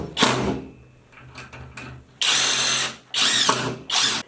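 A power drill drives screws to fasten shower seat brackets to a wall, several loud whirring bursts of a second or less separated by quiet handling and clicks.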